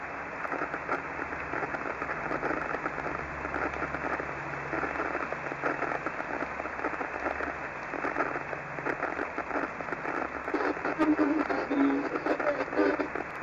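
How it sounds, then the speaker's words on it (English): Rain drips steadily into rain barrels, a dense, faint patter of droplets continuing throughout, slightly louder toward the end. "who listens to rain barrel drips as if they were music"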